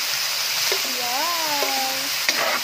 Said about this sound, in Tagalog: ilagay na natin ang ating karne